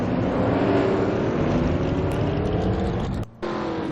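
Race cars in a NASCAR video game race at Canadian Tire Motorsport Park, with a dense, steady engine roar of several cars filling the track, sustained and loud, briefly dropping out near the end before resuming.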